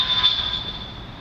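Airplane flying in a modded video game, a brief steady engine drone with a thin high whine, moderately loud and alone.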